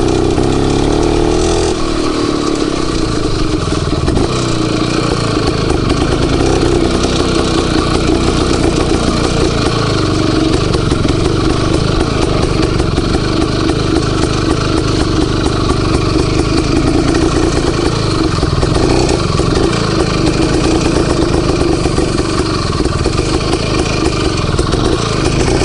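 An IZh Planeta 4 motorcycle engine runs continuously and loudly close by, a steady throbbing rumble with slight rises in revs as it rides through rutted ground, with no talk over it.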